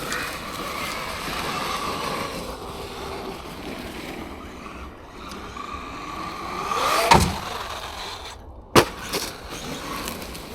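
A Traxxas Maxx V2 RC car driving outdoors over ice and rough ground: a low, fairly quiet electric motor whine under wind noise, rising briefly with a couple of sharp knocks and bumps near the end.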